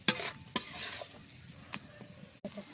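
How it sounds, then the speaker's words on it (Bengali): Spices stir-fried in oil for tarka dal, a soft sizzle under several sharp spoon-on-pan scrapes and clinks spaced irregularly, close and fairly quiet, no voices. "দিয়ে মশলাটা ভালো করে কষে নেব"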